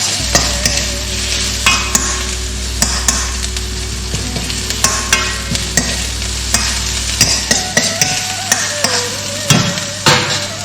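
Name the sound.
carrot stir-fried with Mongolian beef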